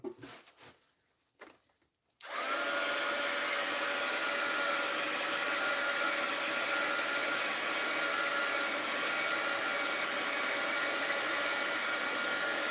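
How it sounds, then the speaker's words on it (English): A heat gun drying craft paint starts after a couple of soft clicks and handling noises, then blows in a steady, loud, continuous roar close by, unbroken to the end. "Let me dry this. Heat gun alert."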